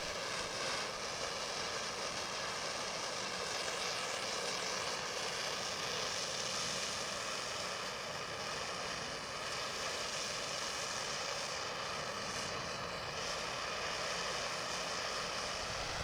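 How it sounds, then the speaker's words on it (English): A propane torch flame roars steadily and loudly while heating a piece of steel, a constant dense hiss-like rush that holds without a break from start to finish. "Now heat the steel with a propane torch or a forge."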